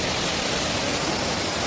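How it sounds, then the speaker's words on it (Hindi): The waterfall at Amarkantak roars as a dense, steady rush of falling water, loud and close, with no pauses and no voices. "यहाँ पर देखिए झरना बिल्कुल"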